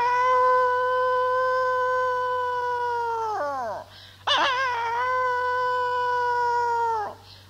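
A voice imitates a dog howling mournfully at a cremation ground: two long, sustained wailing howls that fall off at the end, separated by a brief sharp break, loud and close with no other sound.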